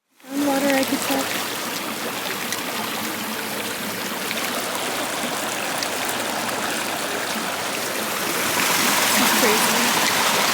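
A forest stream flows steadily on a road trip among the sequoias, a loud continuous rushing and trickling of water close by that swells slightly near the end, with a brief voice at the start.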